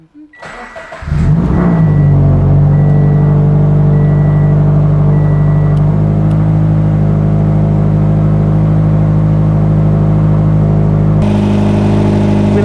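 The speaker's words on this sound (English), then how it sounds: "you're gonna wanna turn the car on" A Toyota car engine idles steadily after starting, holding a continuous low hum close by with a slight shift in tone near the end, and no talking over it.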